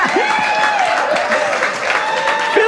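A comedy show audience claps in a broad, steady wash of applause that holds at moderate loudness throughout, with a performer's voice breaking through faintly on top.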